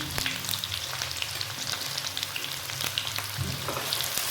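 Two medium onions cut into long slices fry in hot oil for aloo baingan, giving a steady close sizzle broken by occasional stirring clicks throughout, with no voices.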